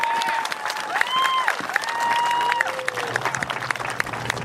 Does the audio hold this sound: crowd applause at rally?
yes